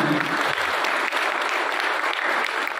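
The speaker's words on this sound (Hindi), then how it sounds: "तो ये लोको पायलट भाई के लिए तालियां" Dense, steady applause from a crowd honoring a train loco pilot, continuous and fairly loud throughout with no individual claps standing out.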